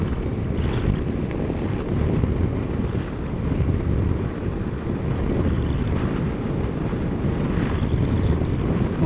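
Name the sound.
wind noise against helmet while riding a Yamaha Tracer 900 GT motorcycle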